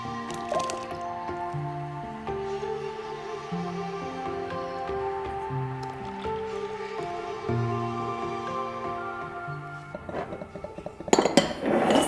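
Milk whisked into custard batter in a bowl, a soft continuous liquid sloshing and squishing with faint clinks against the bowl, fairly quiet, under background music with a louder clatter near the end.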